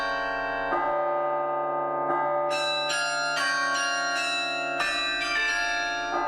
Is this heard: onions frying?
no